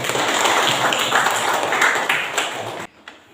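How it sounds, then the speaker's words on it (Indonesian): Students in a classroom clap for a classmate who answered correctly, a loud, close, dense round of many hands that runs steadily and then cuts off sharply near the end. "tepuk tangan dulu untuk dia"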